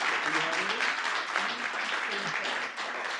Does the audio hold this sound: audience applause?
yes